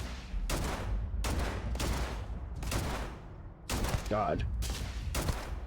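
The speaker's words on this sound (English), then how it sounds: "kill 50 enemies with ballistic weapons." Repeated bursts of ballistic weapon fire in the sci-fi game Starfield, loud and close in rapid volleys with short gaps between them, and a brief spoken word over the shooting.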